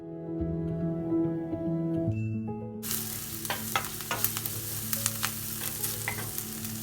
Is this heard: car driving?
no